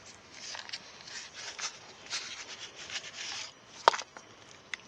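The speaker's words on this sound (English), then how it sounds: "Just loosening the soil up." Garden soil being loosened by hand for planting watermelon in a front yard: soft, irregular scratching and rubbing strokes, close and fairly quiet, with a sharp small knock near the end and no talk.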